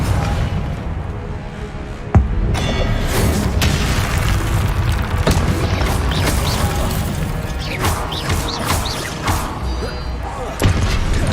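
A fire-blasting Confringo spell from Hogwarts Legacy detonates with booming blasts and crashes, a sharp hit near two seconds and another near the end, over a dense, continuous battle din.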